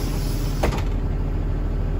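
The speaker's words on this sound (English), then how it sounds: "and then close the door" A brief mechanical whoosh and clunk of a school bus door swinging shut over a steady engine idle during a pre-trip inspection, with no voices.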